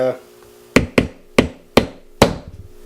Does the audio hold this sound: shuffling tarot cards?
no